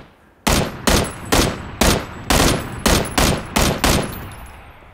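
Gunfire from PLAYERUNKNOWN'S BATTLEGROUNDS: about nine loud, heavy shots or short bursts in a fairly steady rhythm, each booming and then trailing off, with no talk over them.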